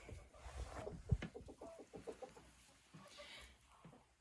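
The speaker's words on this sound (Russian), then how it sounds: "Это кучинская курочка." A Kuchinsky hen, a good laying breed, clucks softly in her nest in a series of short, low murmuring calls, close and quiet, with no talk.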